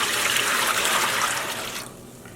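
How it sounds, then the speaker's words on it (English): Water poured from a container into a dye pan while preparing an acid dye bath for a merino and silk roving braid: a steady, close splashing rush lasting about two seconds, then tapering off abruptly. "I'll add some more water into our pan"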